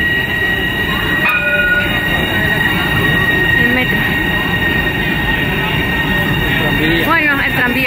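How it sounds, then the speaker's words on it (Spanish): A tram passes close by on a city street, a loud, steady rumble of wheels with thin high squeals and a short screech near the end, while people talk nearby. "el tranvía"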